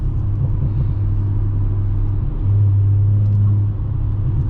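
A 2018 Audi S4 with a 3.0T engine drones loud and steady from inside the cabin while driving, its low hum rising briefly in pitch before settling back.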